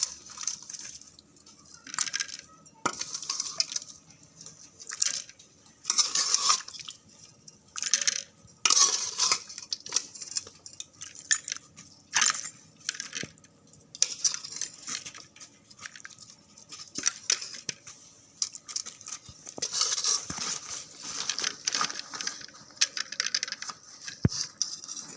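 A spoon repeatedly scoops and scrapes thick beef curry from a pot into a bowl. The sounds come as wet, clinking strokes with short pauses between them, close up and moderately loud, and they carry on for the whole stretch with no speech.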